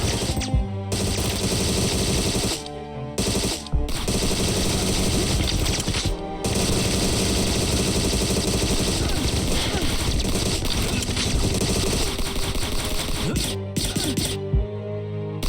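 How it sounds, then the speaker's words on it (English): Rapid gunfire in an old-style boomer shooter game, dense continuous bursts of shots layered with loud in-game music and effects, broken by a few short pauses. "You can see how crazy the shooting gets in this game."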